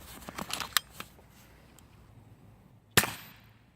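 A PCP air rifle fires one sharp, loud crack that decays quickly, preceded by a few faint clicks and taps in an otherwise quiet setting.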